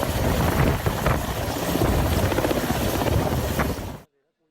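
A helicopter's rotor and engine roar steadily and loudly for about four seconds, a dense continuous drone with faint rhythmic chopping, then cuts off abruptly to silence.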